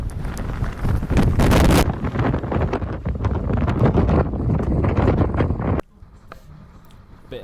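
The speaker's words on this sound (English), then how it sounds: "The wind is just ridiculously strong." Strong gale-force wind, around 30 mph, buffets a cyclist's microphone with loud, continuous roaring gusts over hilly cycle routes, then drops abruptly to a quieter rustle near the end.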